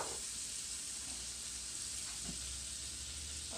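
Butter melting and sizzling in a pan over medium heat: a constant, even hiss up close with a couple of faint clicks and no talking.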